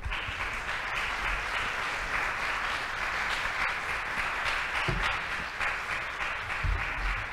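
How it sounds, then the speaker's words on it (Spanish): A large audience applauds steadily, a dense, sustained wash of clapping lasting several seconds without talk. "les pido un aplauso"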